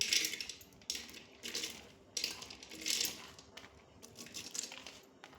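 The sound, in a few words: chana dal being added to a pressure cooker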